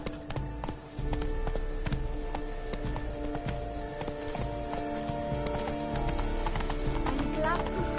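A horse gallops with steady, continuous hoofbeats in The Witcher 3: Blood and Wine, with a brief whinny near the start, the clip-clop running loud under game music and ambience as someone talks.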